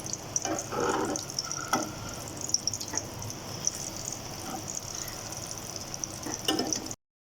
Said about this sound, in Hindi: दूसरी साइड से भी इसी तरह गोल्डन कलर आने तक हम फ्राई कर लेंगे।